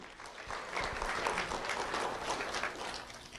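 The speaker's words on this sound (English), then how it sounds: "Round of applause for Holly Kenny" An audience applauds at a recognition ceremony, a dense, even patter of clapping heard alone and fairly faint.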